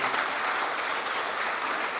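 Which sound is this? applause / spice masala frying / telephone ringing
applause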